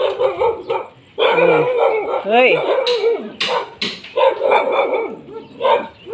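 A dog barks and yelps in several sharp bursts close by, with people calling out and talking over and between the barks.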